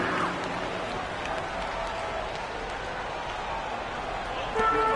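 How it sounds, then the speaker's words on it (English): Arena crowd applause in the basketball game NBA 2K23 gives a steady, even wash of clapping and cheering that swells slightly at the end, with a commentator's voice talking over it. "Give a big round of applause for your Clippers Spirit Dynasty."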